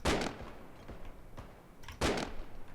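Video game gunfire in a shooter match: two loud, sharp bursts of shots, one at the start and one near the end, with quieter shots and game noise between them, close and clear with no talking.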